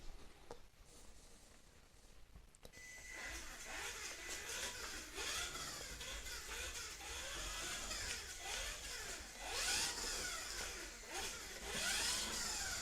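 A Kyosho Mini-Z RC car, a Ferrari 599XX body on an AMG GT3 chassis, laps a small indoor track, its high electric motor whine rising and falling steadily through repeated passes at close range.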